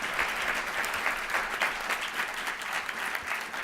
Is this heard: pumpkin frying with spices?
no